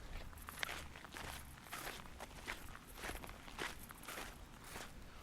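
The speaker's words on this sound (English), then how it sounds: "Walking on the gravel." Footsteps crunch on gravel in a steady walking rhythm, fairly close and quiet, with no talking.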